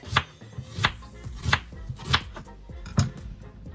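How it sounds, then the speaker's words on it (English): A knife chops onions on a cutting board as meat is prepared for steak quesadillas, with about seven crisp, evenly spaced cuts ringing out close up, alone without talk. "it's time to chop the onions for the meat"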